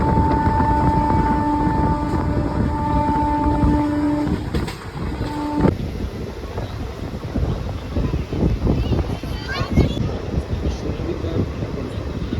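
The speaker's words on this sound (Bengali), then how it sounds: "এই মুহূর্তে আমাদের ট্রেন এসে পৌঁছেছে নিমতিতা স্টেশন" Passenger train pulling into Nimtita station in Murshidabad district, a steady loud rumble of rolling wagons with a sustained horn tone in the first five seconds, wind buffeting the microphone throughout.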